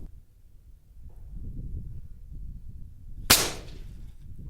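A single sharp rifle shot cracks out from a scoped rifle in a Manners T-5 mini chassis with a detachable magazine, loud and abrupt after a stretch of quiet outdoor background.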